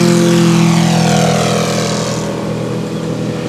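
A radio-controlled model airplane takes off at an RC flying-legends meet, its propeller engine droning loud and steady, then easing slightly as the plane climbs away.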